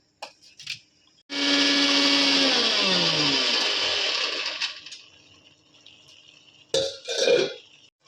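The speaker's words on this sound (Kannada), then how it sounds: "ಒಂದು ತ್ರೀ ಟೊಮೊಟೊಸ್ ತೊಗೊಂಡಿದ್ದೀನಿ ಹಾಕೊಂಡು ಫುಲ್ ಗ್ರೈಂಡ್ ಮಾಡ್ಕೊಳ್ಳಿ" A mixer grinder whirs loudly as it purees three tomatoes for a bamboo shoot sambar, one sustained grinding burst of about three seconds winding down, followed by brief clatter of the jar.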